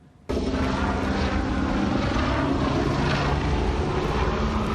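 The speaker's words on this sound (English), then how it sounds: "this is video of what's believed to be the chopper flying erratically in the rain and fog just minutes before the crash" A helicopter flying erratically in rain and fog shortly before a crash into a Manhattan skyscraper, its engine a loud, continuous rotor drone that cuts in abruptly and holds steady, with wind and rain hiss.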